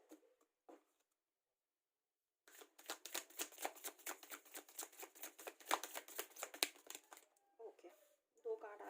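Tarot cards are riffle-shuffled close up for a reading, a rapid rhythmic run of papery flutters after a quiet opening with a few soft taps.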